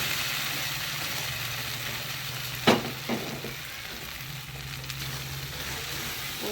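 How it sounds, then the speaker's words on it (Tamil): Mutton lung gravy poured into a hot tempering in a pan for an Indian eeral masala, a steady close sizzle and frying hiss with a brief louder splash as it goes in, over a low stove hum. "அந்த கிரேவி வந்து இந்த தாளிப்புல போட்டுருவோம்."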